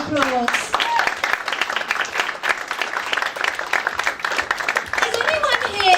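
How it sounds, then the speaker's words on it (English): Applause from a comedy club audience on a Monday night, loud and dense, running throughout. A few hoots and cheers rise above the clapping. "Give him another round of applause"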